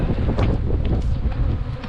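Honey bees buzz around frames in an opened hive, a dense close drone mixed with low wind rumble against the microphone, steady and fairly loud, no talking.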